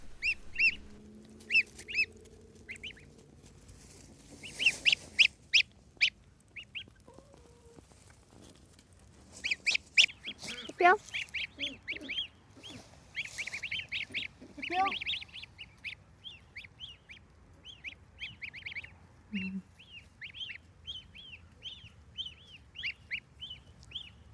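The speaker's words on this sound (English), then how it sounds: "all the goslings came out to play on the grass for the first time" Young goslings out on fresh grass, giving repeated high, squeaky honks and peeps in short bursts, close and fairly loud, with occasional rustling and a brief low voice in the background.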